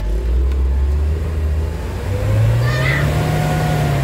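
A car engine revs hard on New Year's, its pitch sweeping steadily upward in a long continuous climb, loud and close with no talking over it.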